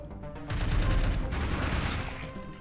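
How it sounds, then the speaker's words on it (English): Missiles launching in the tactical video game Into the Breach: a loud, dense burst of rapid blasts that starts abruptly and rumbles on for about two seconds, close and without talk. "Then use the missiles."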